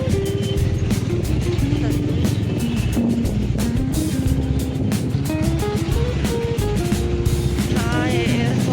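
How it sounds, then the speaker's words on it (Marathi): Steady road traffic rumbles by with cars and motorbikes passing continuously on a busy city road during New Year's Eve, engine drone and tyre noise constant throughout. "आज 31 मुळे खूप ट्रॅफिक आहे रस्त्याला."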